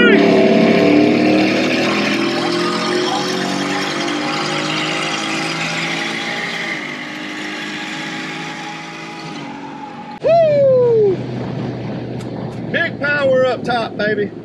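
The loud exhaust of a supercharged 2021 Ford F150 truck roars and climbs in pitch amid wind buffeting during a drag race against a C8 Corvette, then drops away as a voice speaks over lingering rumble.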